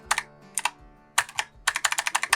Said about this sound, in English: I don't know why my keyboard's not working right there.